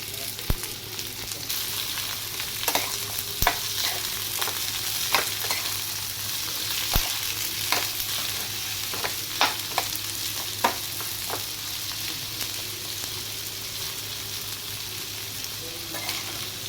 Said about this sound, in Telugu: ఇప్పుడు నేను ఇందులో ఈ కట్ చేసి ఉంచుకున్న దొండకాయ ముక్కలు వేసుకుని వేయించుకుంటున్నాను.